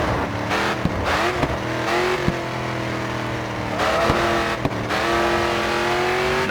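Race car engine in GRID 2 roaring steadily at high revs, dropping in pitch as the car brakes and downshifts a few times, then climbing again, loud and close with no talk.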